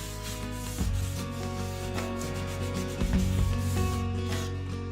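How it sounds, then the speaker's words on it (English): Coarse grit sandpaper rubbing over painted wood, a steady scratchy back-and-forth sanding heard up close, with a low hum running underneath and no voices. "with a coarse grit sandpaper, I remove some of the paint just to give it a naturally distressed look"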